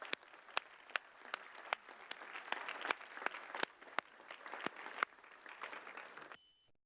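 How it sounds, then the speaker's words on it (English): Applause in a city council chamber, a crowd clapping steadily with a few loud close claps punctuating the wash, then cutting off at the end. "Let's give them a round of applause to welcome them."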